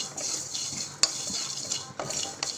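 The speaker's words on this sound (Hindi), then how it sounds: "मसाला अच्छी तरह से भूनना पड़ेगा, चम्मच को हिला हिला के, नहीं तो मसाला जल जाएगा।" A spoon stirs masala spices dry-roasting in a pan over low heat for mango pickle, soft continuous rustling and hiss punctuated by a few sharp metallic clinks of spoon against pan.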